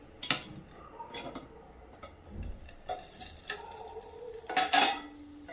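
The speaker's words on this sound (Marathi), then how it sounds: "आता एकदम हलून घेऊया छान चांगला भाजला गेला आहे की नाही ते" Spices being stirred and roasted in a pan for an Indian drumstick bhaji, with repeated spoon scrapes and clinks against the metal over a faint sizzle, close and without talk.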